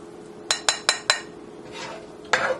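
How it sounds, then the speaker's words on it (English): Cauliflower fried rice scraped from a pan into a bowl: four quick metallic clinks in a row, a soft scraping shuffle, then one more clink and rattle, close and clear with no voices. "So I'm going to transfer this to a bowl"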